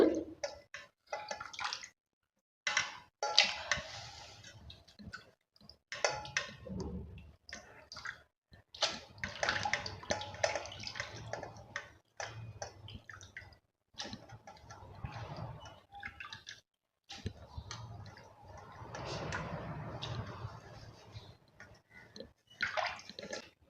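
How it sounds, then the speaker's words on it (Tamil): Murrel fish are washed by hand in water, with close, intermittent splashes, sloshes and drips broken by brief pauses and no talking. "இப்போ ரெண்டு தடவை கழுவிட்டேன் இப்போ மூணாவது தடவை கழுவ போகிறோம்"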